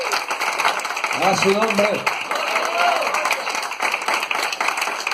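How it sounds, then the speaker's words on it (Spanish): An audience at a Christian church gathering applauds in praise of Christ, dense sustained clapping filling the room under a loud amplified voice speaking over it. "Denle un fuerte aplauso a Cristo. Fuerte el aplauso al Señor."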